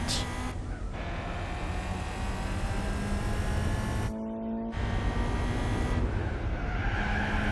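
Race cars in Gran Turismo 4 during a Pan Euro Championship race, with a steady loud engine drone, tires squealing through corners and a brief gear-change dip before the roar resumes, close and continuous with no talking.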